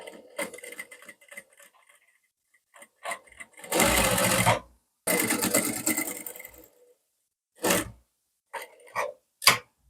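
A sewing machine stitches an understitch on a blouse in two sustained bursts, each about a second or more long, with quieter scattered handling clicks and rustles before and after.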